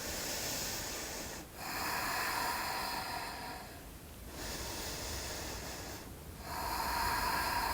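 Slow yoga breathing during a hatha flow: long, steady, airy inhales and exhales close to the mic, with brief pauses between breaths across several cycles.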